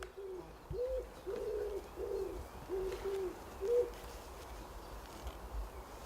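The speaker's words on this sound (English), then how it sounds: "At least 2 different species of birds are calling." Several soft, low hooting calls from forest birds repeat in a loose series over quiet outdoor ambience, moderately distant.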